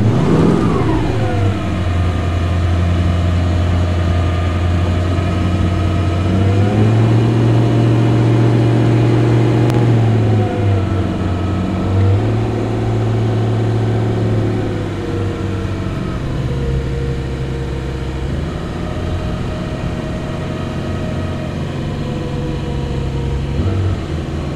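An experimental light airplane with a swapped-in LS V8 engine taxis at an airport, its loud, steady engine drone holding close throughout with a few shifts in pitch as power changes.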